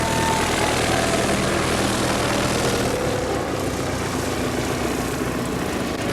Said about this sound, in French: on va couper un petit peu le son de son moteur, qui est un moteur Gypsy